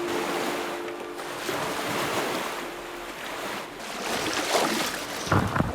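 Glacial river rapids on the Flathead River crash around a kayak, a dense rushing roar of whitewater with wind buffeting, swelling louder toward the end with splashes.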